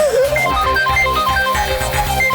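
A mobile phone ringtone plays a repeating melodic pattern of bright electronic notes over a steady beat, loud and close, with no talking.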